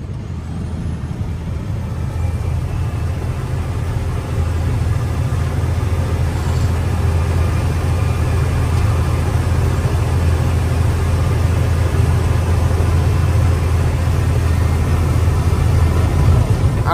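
A truck engine runs steadily with a heavy low rumble and constant mechanical drone, close and loud for the whole stretch, with no voices.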